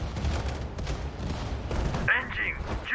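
Heavy naval cruiser guns firing in a WWII sea battle in Sudden Strike 4, a dense rumbling barrage of booms under continuous game noise, with someone talking over it.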